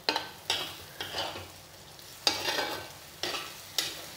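Tomatoes go into a hot frying pan and are stirred, giving a steady sizzle broken by seven sharp scraping stirs at roughly half-second to one-second intervals, close and moderately loud, with no talking.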